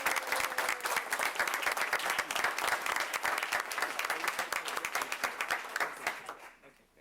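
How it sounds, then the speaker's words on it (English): Audience applause for award winners at a board of governors meeting, a dense steady clapping that fills the room for about six seconds before tapering off quickly at the end. "Let's give our winners all one more round of applause."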